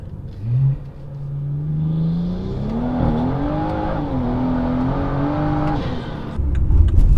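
A tuned car's engine pulls hard through second gear, the loud, close note rising steadily in pitch with a brief dip at a shift, then a rough rumble as it eases off.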